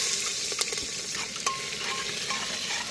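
Vegetables cook in a pressure cooker on a butane gas stove at a trek campsite, giving a loud, steady close sizzle with clinks and scrapes of stirring throughout.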